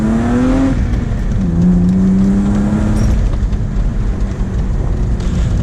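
A BMW E36 3 Series on newly fitted coilovers drives a bumpy road, its engine droning steadily from inside the cabin with one clear rise and shift in pitch early on, then a constant road roar.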